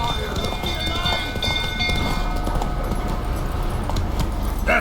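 Roach the horse gallops in The Witcher 3, with steady rhythmic hoofbeats under a busy game soundscape and speech.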